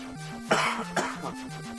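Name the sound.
cough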